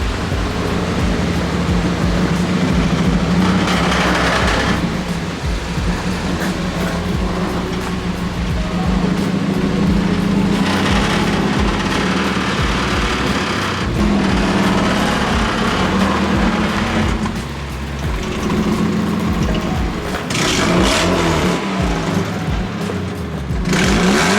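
A Nissan 240SX engine with an exhaust leak idles and revs loudly and steadily with a raspy, rough exhaust note throughout, with no voices.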